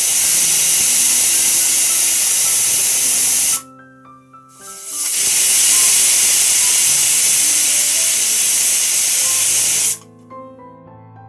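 A pressure cooker boiling kalai with potatoes lets out two loud, sustained hissing whistles of steam, close by, the first cutting off briefly before the second long burst, then falling quiet.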